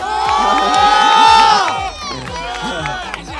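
Crowd of studio audience cheering, whooping and clapping loudly and continuously at a sports talk show about the 2022 World Cup in Qatar, with excited voices mixed in throughout.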